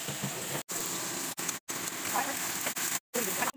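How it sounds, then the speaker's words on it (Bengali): Potato pieces drop into hot cooking oil, giving a dense, crackling sizzle close by, broken by a few abrupt short gaps. "দিদি কিন্তু এখন আলুটা ছেড়ে দিচ্ছে"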